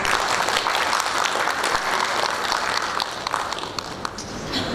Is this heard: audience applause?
yes